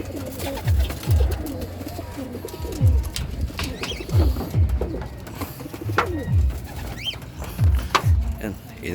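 Racing pigeons in a loft coo repeatedly, each deep rolling coo rising and falling in a steady rhythm close by, with soft fluttering and faint rustling between calls.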